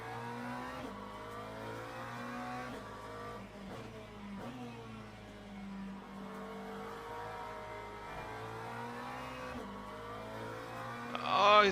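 Race car engines in Le Mans Ultimate at the Le Mans circuit as a rival attempts an overtake: steady, layered engine drones with several pitch shifts and gear changes, a close car holding note while another rises and falls, swelling louder at the end.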